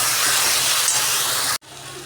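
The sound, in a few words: ginger garlic paste sautéing in pan for mutton curry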